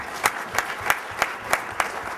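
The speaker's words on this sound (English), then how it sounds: "a round of applause for our panelists." An affiliate marketing summit audience gives its panelists a round of applause, a dense wash of clapping with a few louder claps punching through at a steady rhythm.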